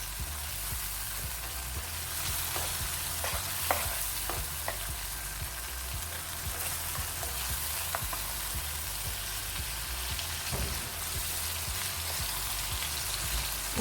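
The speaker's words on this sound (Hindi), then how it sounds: "अच्छी तरह से हम मसाले की बुनाई करेंगे।" Spices and chicken gizzards frying in a pan while being stirred: a continuous sizzle broken by scattered clicks and scrapes of the utensil, at a steady, moderate level.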